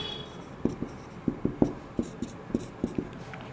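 Pen writing on paper while noting beam design data for a civil engineering problem, a series of short scratchy strokes and taps in an irregular rhythm, close and alone.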